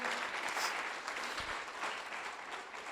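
A church congregation applauds steadily, a soft, even patter of many hands clapping at some distance, with no voices standing out.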